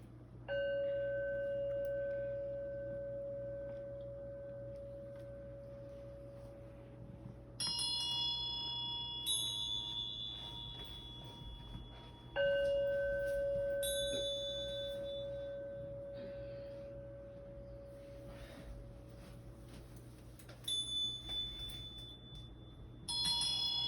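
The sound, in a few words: bells ringing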